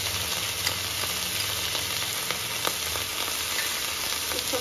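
Vinegar and tomato sauce are mixed in a hot pan, giving a steady, dense sizzle that holds close and even from start to finish, with faint stirring scrapes and no voices.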